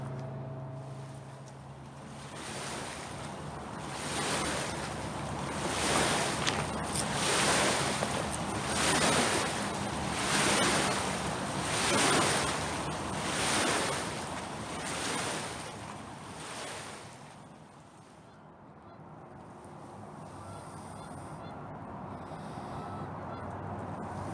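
Waves wash rhythmically against a riverbank at the Portland Southwest Waterfront after a boat passes, a series of swelling surges for several seconds that then calm to a softer lapping, with light wind noise throughout.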